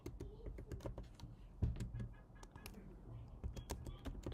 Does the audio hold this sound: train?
no